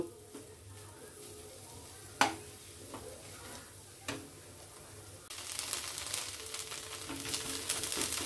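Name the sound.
gourd leaf paste frying slowly on low gas flame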